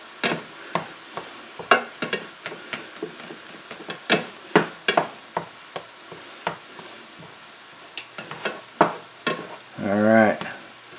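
Shrimp for fried rice being stirred in a hot pan, a steady sizzle broken by repeated sharp scrapes and knocks of the utensil against the pan, ending in a louder burst of frying near the close.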